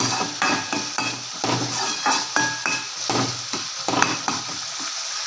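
Tomatoes for a spicy garlic chutney fry and sizzle in a pan while a metal spoon stirs and mashes them, with frequent clinks and scrapes over the sizzle and no talking.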